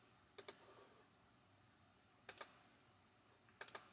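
Short bursts of keystrokes on a computer keyboard while entering a measurement in AutoCAD 2024, three quiet clusters of two or three clicks each, spaced evenly apart, with no talking.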